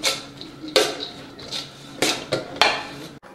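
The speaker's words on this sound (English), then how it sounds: "Mix it all together, throw it in the pan" A utensil scrapes and clanks against a pan while cabbage roll leftovers are mixed together, loud close metallic knocks in an irregular rhythm.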